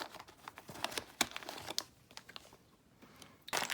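Paper and bubble wrap crinkle and crunch as a package is unwrapped during an unboxing of cheap watches, with close, irregular crackles, sharp snaps and brief quiet gaps.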